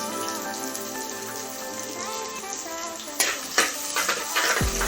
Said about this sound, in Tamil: வெங்காயம் நல்லா பொன்னிறமாக வதக்கணும்.